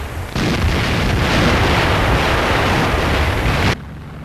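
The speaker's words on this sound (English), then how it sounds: "The red gunners put up an iron curtain barricade for a multitude of flak barrels." Anti-aircraft flak guns fire at bombers over Moscow, a dense, continuous roar of overlapping bursts and booms that runs loud for several seconds and then cuts off abruptly.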